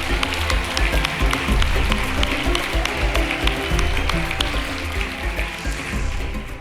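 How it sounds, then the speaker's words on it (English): An audience at a Hall of Fame awards celebration gives a dense, steady round of applause for an honoree, loud and continuous with a low rumble underneath. "A round of applause, ladies and gentlemen."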